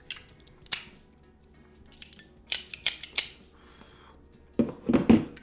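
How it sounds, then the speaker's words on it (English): Sharp snips of a cigar cutter clipping a Camacho Triple Maduro cigar, several crisp close clicks spaced out in quiet, with a cluster of louder cuts at the end. "maybe I should, actually cut this cigar before I light it"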